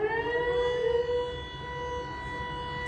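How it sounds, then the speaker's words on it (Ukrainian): An outdoor civil defense siren wails steadily, a loud sustained tone that holds and then eases slightly in level, heard alone without voices over a low background rumble. "Сирена."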